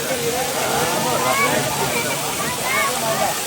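Continuous rushing roar of a waterfall near Sangardak, a broad steady wash of falling water close by with faint voices mixed in.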